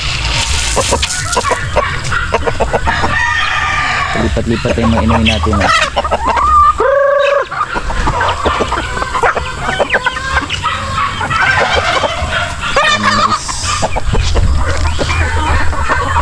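Hungry turkeys penned on a farm call and gobble in loud, overlapping bursts close by, mixed with clucking, while someone talks briefly over the flock.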